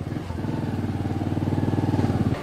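A motorcycle used as a taxi idles and revs with a rapid, steady engine pulse that swells slightly louder, close by and without talk over it.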